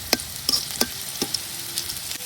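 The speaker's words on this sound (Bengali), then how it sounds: "পেঁয়াজ আর রসুনটা এই যে ভাজা হয়ে গেছে।" Onion and garlic, nearly done, fry in a pan as a spoon stirs them: light irregular scraping taps over a low, steady sizzle.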